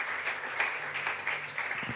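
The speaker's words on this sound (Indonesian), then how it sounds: "pujian tepuk tangan bagi Tuhan Yesus" Brief burst of applause from a church congregation during a Sunday service, a dense patter of clapping at moderate distance, steady for a couple of seconds.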